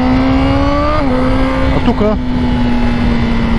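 A BMW engine with its exhaust valve held open drones loudly and steadily up close, shifting pitch as the gears change, with a brief rev flare near the middle. A voice briefly speaks over it.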